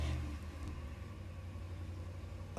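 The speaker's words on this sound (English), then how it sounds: "My neighbor's truck is so loud." A neighbor's loud truck engine rumbles steadily outside, heard as a continuous low drone with no talking over it.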